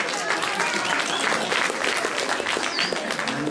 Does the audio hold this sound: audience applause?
yes